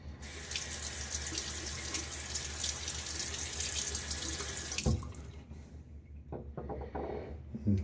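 A bathroom tap runs steadily while rinsing off after a shave with a Rockwell 6S safety razor. The water flows loudly and evenly, then cuts off abruptly, leaving faint drips and small clinks.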